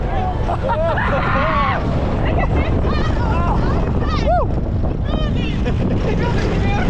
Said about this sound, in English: Really enjoy this coaster, the Mack Rides Big Dipper here at Walibi Holland.